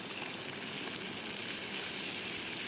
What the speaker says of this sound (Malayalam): കരിയേപ്പിലയും കൂടി ചേർത്ത് കൊടുത്തിട്ട് നമുക്കൊന്ന് വഴറ്റിയെടുക്കാം